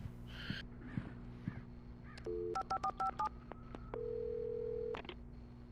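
A sheriff station phone in the Alan Wake video game is dialed at night: a quiet sequence of short electronic keypad tones, then a longer steady ringing tone, over a low ambient hum with distant bird calls.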